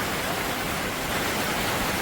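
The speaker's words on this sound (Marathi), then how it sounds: "आता मस्त जोरात पाऊस आला" Dense, steady downpour of heavy rain, a continuous loud hiss with no pauses.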